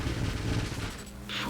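Rapid volleys of projectiles fired in an action video game, a dense continuous rumble of overlapping shots with low booms, loud and close, with a brighter whoosh near the end.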